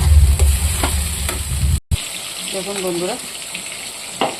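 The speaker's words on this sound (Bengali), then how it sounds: "এটা আমি একটু ভাজা করব।" Onion and a prepared spice paste fry in a pan with a loud crackling sizzle that cuts out briefly, then continues more softly while someone speaks over it.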